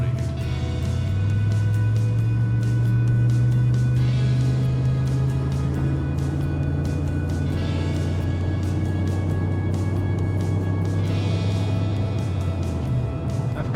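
A 2006 Chevrolet Monte Carlo SS cruises at 55 mph after sitting for years on old tires, its engine holding a steady low drone under continuous road and wind noise, the pitch shifting slightly as speed settles.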